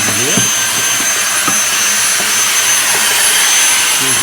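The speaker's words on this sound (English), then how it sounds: "Let's do a little vacuum here." A vacuum cleaner runs loud and steady at close range, cleaning out a flea market guitar. The high whine does not let up, and a few faint knocks come through underneath.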